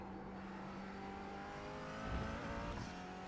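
A McLaren race car in iRacing at the Charlotte Roval holds a steady, buzzing engine note with a faint whine, then swells briefly louder as it revs before settling back, with no voices.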